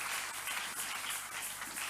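A church congregation applauds for the Lord during a worship service, a dense, steady wash of many hands clapping together throughout, fairly loud and continuous with no pauses.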